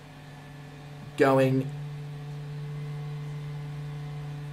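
Steady low drone of the DC-3 aircraft in Microsoft Flight Simulator, with a brief louder burst early on, while someone talks over it.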